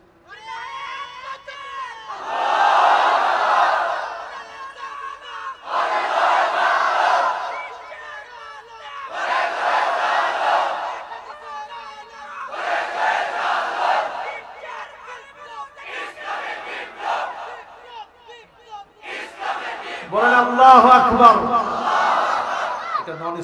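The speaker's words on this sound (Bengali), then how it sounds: "একজন নন স্টপ একটা তাকবীর দেন তো দেখি" A large religious gathering chanting takbir in loud, repeated collective shouts, each surge rising and fading in a steady rhythm with short gaps between, building to a fuller burst near the end.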